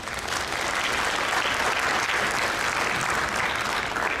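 A graduation ceremony audience at Topeka High School applauds continuously, a thick, steady roar of many clapping hands at even loudness with no talk over it.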